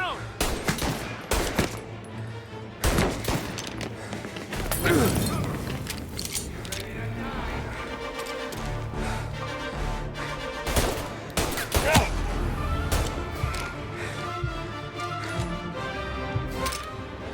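Repeated bursts of gunfire from the video game Mafia Definitive Edition, with rapid automatic volleys and single loud shots crowding a dense battle mix, while voices shout over the shooting.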